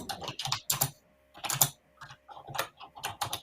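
Fast typing on a computer keyboard to write a chat message during an online chess event: clusters of crisp, close keystrokes in uneven bursts with brief pauses, and no talking.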